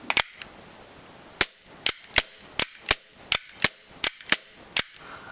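Sharp shots from a Marui G17 airsoft pistol running on compressor air, about fifteen crisp cracks fired in a loose, uneven rhythm with short pauses, loud and close, with no talking.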